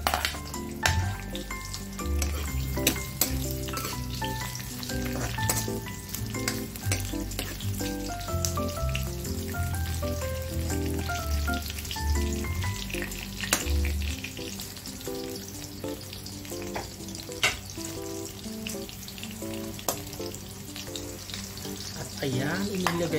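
Ginger sautéing in a pan for a sautéed clam dish: steady, close sizzling and frying throughout, with occasional stirring scrapes and utensil clinks against the pan and no voice over it.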